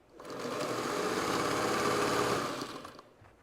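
A Ruby sewing machine hums close by in one continuous run of about three seconds, rising smoothly, holding a steady motor whir with rapid needle chatter, then winding down, with no voices.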